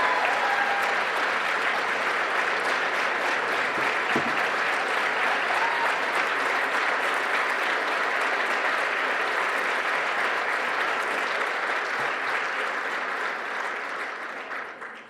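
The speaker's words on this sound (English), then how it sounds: "If you guys don't mind giving one more round of applause for these 5 up here." Sustained audience applause for student award winners at an outstanding student awards ceremony, a dense steady wash of many hands clapping that carries on evenly and fades slightly at the end.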